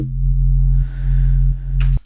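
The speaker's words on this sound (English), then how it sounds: "there's a slight bit of pitch envelope, so the note starts higher and rapidly comes down. That's how you hear that little donk at the start." Sustained synth note from Ableton's Operator with a short downward pitch envelope giving a brief 'donk' at its start, held for about two seconds in a drum and bass patch with faint white-noise layer, then cut off abruptly.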